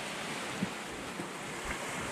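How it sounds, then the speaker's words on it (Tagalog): Ocean waves and wind at sea, heard from a small boat in rough water, a steady broadband wash with a few faint splashes, quiet and distant. "Lalaki na ng alon"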